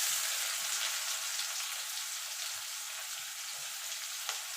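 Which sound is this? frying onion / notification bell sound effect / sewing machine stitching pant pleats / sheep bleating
frying onion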